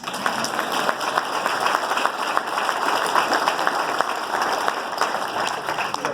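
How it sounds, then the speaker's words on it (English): Sustained applause from an audience at a mayoral campaign event in New Jersey, a dense steady wash of many hands clapping at an even level throughout. "You clap for Victor."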